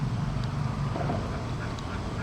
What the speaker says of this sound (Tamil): இவ்வளோ வாத்து பாருங்க.